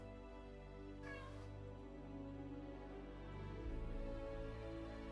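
A cat meows once, faint and fairly distant, briefly rising above a steady low background hum, with no one talking.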